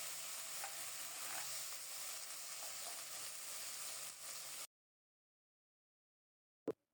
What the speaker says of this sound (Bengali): চুলার তাপ কমিয়ে রেখে মশলাগুলি নেড়েচেড়ে খুব সুন্দর মতো কষিয়ে নেব